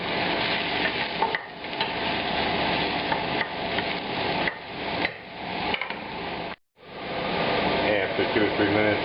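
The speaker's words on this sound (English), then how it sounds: "as soon as the pan gets hot, we're going to add the oil and start cooking the mushrooms and the shallot" Mushrooms and shallot fry in hot olive oil in a pan, giving a steady close sizzle with intermittent stirring clatter and brief breaks in the hiss.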